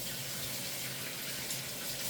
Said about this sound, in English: I just need to wash my hands